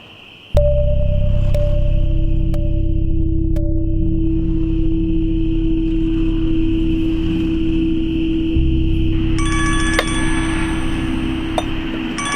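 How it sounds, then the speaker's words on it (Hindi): A mobile phone ringtone starts suddenly and plays on steadily, loud and close, with sustained tones and occasional chiming accents, and no talk over it. "पूजा का फोन है।"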